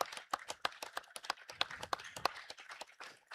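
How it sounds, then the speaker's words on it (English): Applause for two seniors at a high school girls' basketball game in a gym: a ragged crowd of claps rings out, fairly quiet and steady across the moment, with no talk over it. "you're going to see a nice round of applause here for the two seniors"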